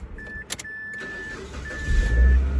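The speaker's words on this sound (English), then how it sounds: "we're gonna go ahead and crank up the car" A 2003 Mazda Protege cranks and fires up during a radiator replacement, with brief clicks and a thin whine before the engine catches and settles into a low, steady idle close by.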